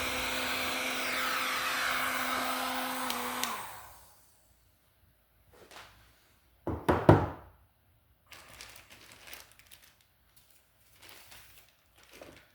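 Heat gun blowing hot air to shrink heat-shrink tubing over a soldered wire splice, a steady airy whir with a faint tonal hum that runs for about four seconds, then cuts off, leaving quiet handling noises.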